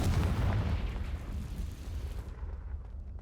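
A Confringo blasting spell detonates in Hogwarts Legacy with a loud, deep explosive boom. Its heavy rumbling roar starts at full force and slowly fades over about three seconds.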